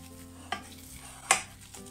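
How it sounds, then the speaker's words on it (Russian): A masher works boiled potatoes into puree, giving soft squelching presses with two sharper clacks against the pot, close and quiet, with no talk. "Разминаем картофель в пюре с помощью толкушки."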